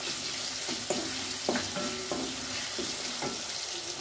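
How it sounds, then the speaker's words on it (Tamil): Tomato, tamarind and coriander leaves sautéing in oil for a chutney, giving a steady close sizzle with several scraping knocks of a spatula stirring in the pan and no voices. "நல்லா வதக்கி விட்டுக்கலாங்க."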